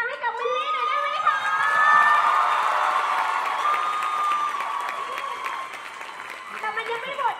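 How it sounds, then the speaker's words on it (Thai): Applause and cheering from a live audience at a Thai stage show launch event for a musical, a dense sustained roar of clapping and shouts that swells early then eases off, with a host's voice cutting in near the end. "ขอเสียงปรบมือดังๆ"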